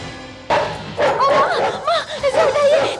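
A police dog-squad dog barks in a rapid series of close, loud yelps and woofs, mixed with voices.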